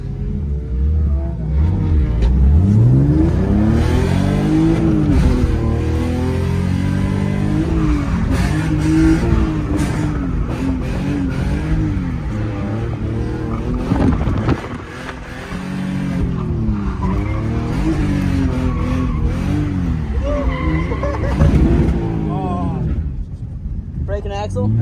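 A drift car sliding on a wet, snowy track at Drift Indy opening day: loud, close engine revving that surges and dips repeatedly, with wavering pitch and tire noise throughout.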